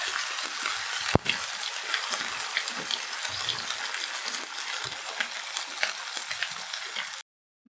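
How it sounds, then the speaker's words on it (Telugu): Tomato paste fries in oil in a pan over low heat, giving a steady, close hiss and crackle with a brief clatter near the start. No one speaks, and the sound cuts off abruptly at the end. "అది మొత్తం ఇందులో వేసుకొని కొంచెం సేపు నూనెలో వేగనివ్వాలి దీన్ని"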